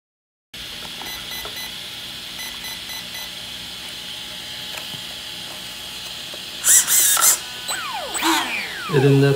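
Hobbywing electronic speed controller during calibration, a steady electronic hum with faint ticking, then a short burst of sharp beeps near the end followed by a few quieter tones.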